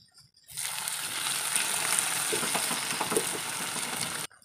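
Stuffed jama tiffin snacks frying in hot oil, a steady, dense sizzle that starts abruptly and holds evenly for several seconds before cutting off, with no voices.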